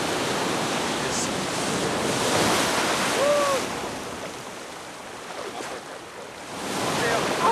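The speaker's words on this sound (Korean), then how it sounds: "여기 강이 아니라서 파도가 막 쳐서 조금 무서운데" Big Atlantic Ocean waves crash and surge along the Brazilian coast, heard up close as a steady roar that swells and fades. Wind buffets the microphone throughout.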